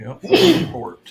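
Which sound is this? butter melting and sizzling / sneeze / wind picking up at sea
sneeze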